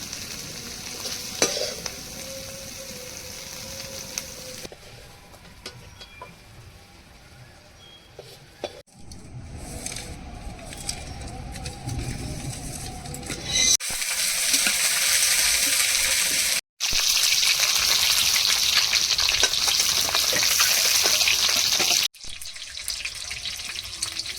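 Eggs frying in hot oil in a pan for a Bengali egg dish, a steady loud sizzle with scraping and stirring that comes and goes, and a few brief pauses.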